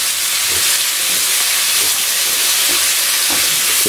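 Red chillies fry in a pan for chicken jalfrezi, giving a loud, steady sizzle and hiss that runs unbroken from start to finish, with no voices over it.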